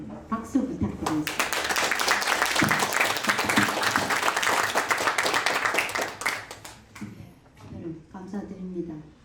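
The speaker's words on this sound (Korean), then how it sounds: "다 같이 우리는 박수 부탁드리겠습니다" Applause from the audience at a district development institute's opening forum: a voice speaks, then sustained clapping swells for several seconds before fading as speech resumes.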